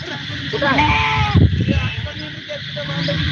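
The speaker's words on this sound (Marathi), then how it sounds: "आमच्या शेतापाशी ह्या मेंढ्या आलेल्या आहेत" Native village sheep near a farm field bleat briefly, a few wavering calls close by, mixed with someone talking over them and other background activity.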